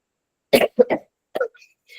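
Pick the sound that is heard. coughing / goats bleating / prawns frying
coughing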